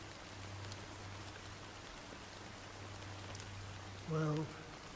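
Soft, steady rain hiss falling in the Elden Ring game world, faint and continuous throughout, with a low hum underneath and a short voiced sound near the end.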